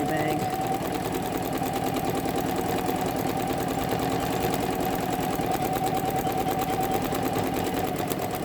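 A Janome Memory Craft 10001 embroidery machine stitches out a design, a fast, steady mechanical hum and rapid needle chatter that runs unbroken and loud at close range.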